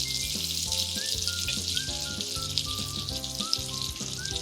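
Cloves, cardamom, garlic cloves and fresh ginger sizzle in a kadhai of oil and butter for paneer butter masala, giving a steady, soft frying hiss under background music throughout.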